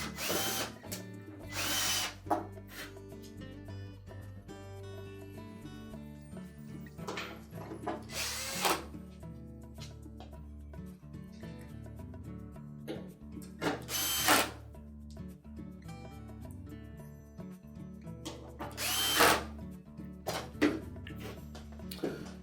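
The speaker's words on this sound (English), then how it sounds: "And then just install the remaining retaining screws." A power drill drives retaining screws into a Whirlpool range, several loud close whirring bursts spaced apart with clicking and ratcheting handling noises between them.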